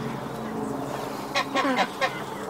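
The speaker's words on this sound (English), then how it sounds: "And the geese, obviously." Geese at a small zoo give a few short nasal honks in quick succession, fairly close, over a low background hum.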